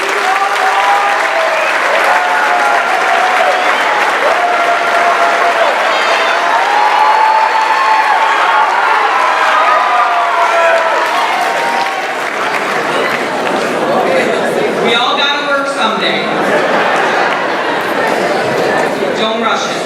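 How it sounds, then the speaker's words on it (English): A steady round of applause from a large crowd at the Fitzgerald High School Class of 2018 graduation, dense and loud throughout, with a few cheers and whoops rising near the end. "recognized by a round of applause"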